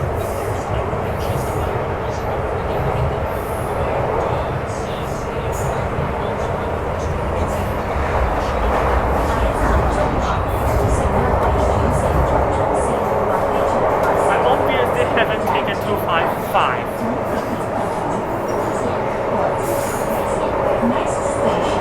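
Hong Kong MTR train ride heard from inside the carriage, with a steady rumble of wheels on rail and a rising high squeal midway, as voices talk over the continuous noise.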